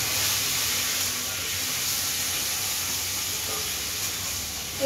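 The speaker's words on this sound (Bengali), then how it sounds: "একটু জল দিই, মশলা কষানো হচ্ছে তো একটু জল দিই।" Water hits sautéing spices in a hot pan, producing a strong, steady steamy hiss that holds evenly from start to finish, close and loud, with a small clink near the end.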